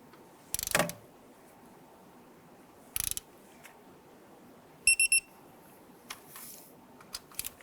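A torque wrench tightens intake bolts on a 1994-2004 Ford Mustang 3.8L V6, giving a few sharp metallic clicks and ratcheting bursts spaced over several seconds against a quiet garage background, with no voices.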